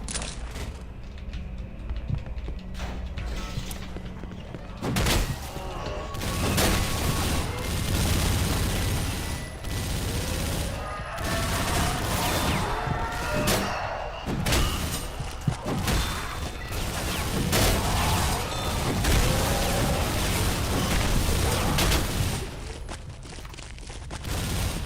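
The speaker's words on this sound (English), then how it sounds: "I think the pipe bomb is normal." A pipe bomb goes off in Left 4 Dead 2, bringing a run of crashing, booming blasts and clattering impacts that continue through much of the stretch over steady game noise.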